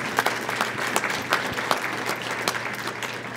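Brief audience applause at a county eviction prevention summit, a moderate patter of clapping from a modest crowd in a room, a few distinct claps poking through the texture.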